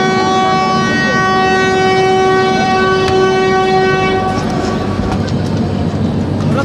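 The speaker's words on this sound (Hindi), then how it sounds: "ये ट्रेन ने हार्न दे दिया है" A passenger train on the Godan Express sounds a long, loud, steady horn, heard close from aboard a 3E coach, followed by rumbling and rattling as the train moves off.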